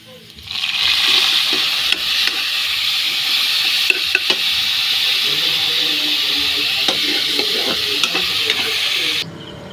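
Tomatoes frying with homemade anchovy paste (bagoong) in a pan, a loud steady sizzle close by with occasional stirring scrapes and clicks, starting abruptly and cutting off near the end.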